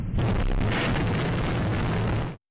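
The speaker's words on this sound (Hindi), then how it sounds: "इन्हीं हवाई हमलों के एक वीडियो में जोरदार धमाके की आवाज सुनाई दी" A loud, deep explosion from an air strike in the Russia-Ukraine war roars for about two seconds as a sustained rumbling blast, then cuts off abruptly.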